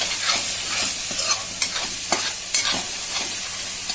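A spoon stirs turmeric, spices and salt in a frying pan with repeated close scrapes and taps over a continuous sizzle, in a soya chaap masala base.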